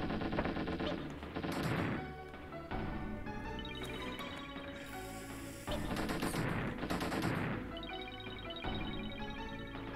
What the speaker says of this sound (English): Fucking love the machine gun.